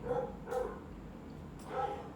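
A dog barks three times in short, evenly spaced yaps, fairly close and moderately loud over a low background hum.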